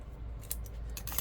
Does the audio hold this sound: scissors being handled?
yes